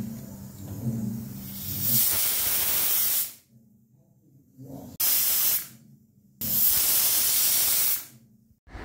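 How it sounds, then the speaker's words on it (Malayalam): A pressure cooker cooking lentils lets off loud steam hisses in three bursts, the longest about two seconds, with near-silent gaps between them. "കുക്കറിൽ വേവിച്ച് വിസിൽ വരട്ടെ."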